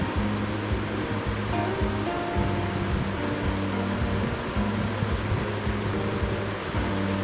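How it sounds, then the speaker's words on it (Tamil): Onions sizzling as they sauté in a pan for tomato kurma, a steady, dense frying hiss with soft crackle running throughout, close and continuous with no talk. "வெங்காயம் நல்லா வதங்கிட்டுருக்கு."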